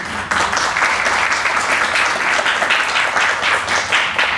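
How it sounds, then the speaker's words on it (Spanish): At a literature lecture, an audience welcomes the speaker with a dense, sustained round of clapping from a roomful of people, loud and close throughout. "Pido un fuerte aplauso y bienvenido."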